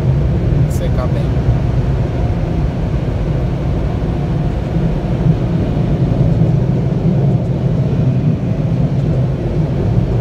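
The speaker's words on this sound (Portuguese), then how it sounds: "Turbo dry. Turbo dry. Olha o vento. O vento tá bem forte." A car wash turbo dry blower roars as a strong, steady low rumble of rushing air around a car, continuous and loud throughout, with a person speaking over it.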